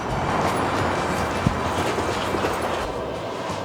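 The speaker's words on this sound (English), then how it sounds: "Okay, let's get on the Amtrak train." Continuous rumbling of an Amtrak passenger train in motion, with faint rhythmic clicking from the wheels over a dense, steady roar.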